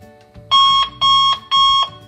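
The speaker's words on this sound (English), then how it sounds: "just to show you how loud the alarm can go, I'm going to put it up to max for you" An alarm clock set to maximum volume rings in three loud, identical electronic beeps, each about a third of a second long and evenly spaced, close and piercing over a quiet background.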